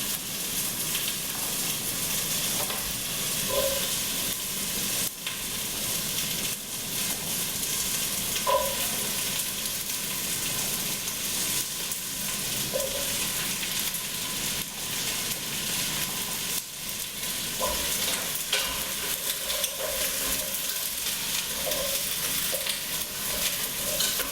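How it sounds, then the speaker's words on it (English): Onions and garlic softening in a pot of oil at the start of a vegetable broth, giving a continuous soft sizzle with occasional faint clinks from stirring, and no voices. "Softening the onions and the garlic a little bit."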